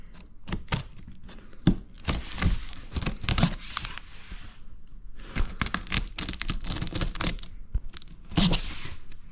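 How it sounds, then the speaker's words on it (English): Box cutter slicing through packing tape on a Duotts D88 e-bike box, a run of close, crackly tearing and ripping strokes with crinkling cardboard and plastic, in bursts across the whole stretch with brief pauses between. "now I managed to cut through all the tape"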